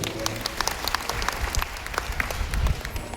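An audience at a devotional satsang gathering applauds, a dense run of many hands clapping that swells near the end and fills the whole stretch.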